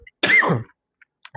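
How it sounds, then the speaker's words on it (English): One short, rough throat clear or cough lasts about half a second, loud and close, followed by near silence and a faint breath. "I'm really starting to have a coughing fit for whatever reason."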